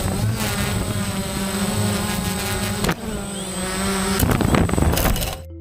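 A drone's propellers whir loudly and steadily in flight, a close, sustained buzzing drone with a brief dip near the middle, heard alone without voices.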